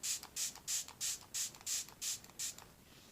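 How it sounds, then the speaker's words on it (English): Nine quick, evenly spaced hissing bursts from a spray bottle misting makeup sponges, pumped in steady rhythm, close and fairly loud, with no talking. "So I'm just gonna spray 6 Plus on all of my sponges."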